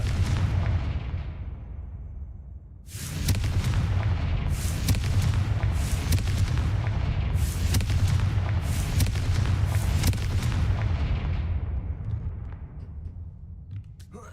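Confringo fire-blast spell explosions in the Hogwarts Legacy video game: a steady roar of booming blasts and bursts, loud and dense, with repeated sharp cracks over a continuous rumble for most of the clip, with no speech.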